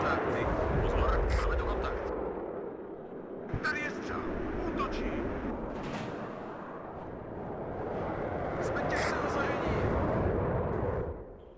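Rockets streak overhead in the wartime strategy game WARNO, a continuous roaring rush with whooshing peaks and distant blasts, and a voice talks over the battle noise.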